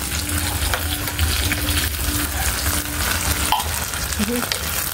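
Sardines frying in a hot pan with eggs being prepared, a dense continuous close sizzle with scraping stirring and a few clinks of utensil against pan, steady and loud throughout.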